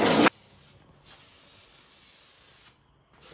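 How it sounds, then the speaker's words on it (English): A spray paint can sprays in bursts: a loud opening blast, then a sustained close hiss, a brief pause and another hiss that cuts off and resumes, with no speech. "I had to waste one of my good spray paints to get the nozzle off"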